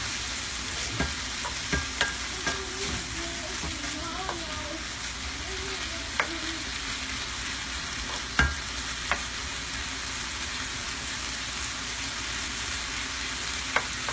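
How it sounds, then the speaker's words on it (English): Bacon fries on high heat in a pan for a Cajun chicken pasta, a constant broadband sizzle and crackle with scattered sharp pops and a few faint utensil taps, steady and fairly close. "So we go ahead and add the bacon. Hopefully that starts crisping up. I have it on high."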